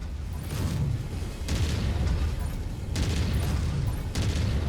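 A mech's critical explosion in MechWarrior 5: Mercenaries comes through as a loud, sustained rumbling roar with repeated heavy booming bursts, like a barrage of blasts and gunfire running continuously.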